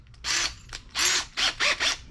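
A power drill fitted with a half-inch bit whirs in four short, close bursts of varying length, the motor spinning up and stopping between each as the bit is chucked.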